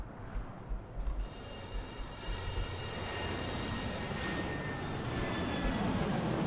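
A Boeing 737-800 airliner taking off in the airport game Airport CEO, its jet engines building from low thumps into a steady, loud roar with a rising whine that holds to the end, no voices over it.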